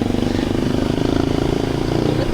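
A motorcycle engine revving steadily on a ride between Cebu City and Lapu-Lapu City, a loud continuous buzzing drone close by, with a voice faintly mixed in.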